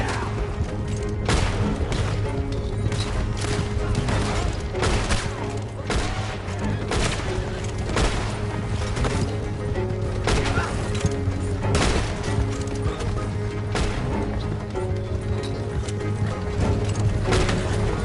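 Gunfire bursts through a shootout during a stagecoach robbery in Red Dead Redemption 2, loud repeated shots and clattering over a rumbling background, with horse hooves and game sounds mixed in.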